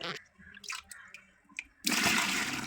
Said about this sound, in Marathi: आता आपण हलक्या हाताने वरवरचं जे पाणी आहे चांगलं ते एका बकेटमध्ये काढून घेणार आहोत